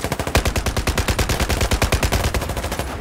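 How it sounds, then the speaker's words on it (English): Rapid automatic gunfire from Battlefield 4 play, a steady stream of loud close shots in quick regular succession for about three seconds with no talking. "I'm getting shot at."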